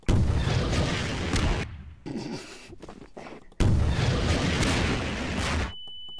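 Grenade blasts in Garry's Mod: two long, loud booming explosions with broad crackling roar, separated by a quieter gap of debris and faint noise, ending in a thin high ringing tone.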